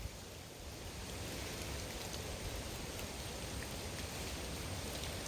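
Rain falls steadily in the aftermath of Hurricane Ida over a yard with a greenhouse and pond, a soft, even hiss of drops on surfaces, faint and unbroken with no voices.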